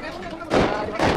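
Firecrackers go off near a temple during a family visit, with two loud, sharp broadband bursts about half a second apart over a noisy crowd background.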